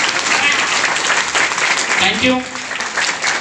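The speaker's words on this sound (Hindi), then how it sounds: "आप सबके लिए एक बार जोरदार तालियां बजा दीजिए।" A seminar audience in Bagodar gives the women loud applause, a dense continuous wash of clapping under which a voice briefly speaks.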